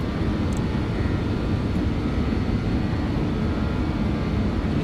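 Steady broadband roar of BAe146 jet engines at takeoff power in the X-Plane 12 flight simulator, loud and continuous with no talk over it.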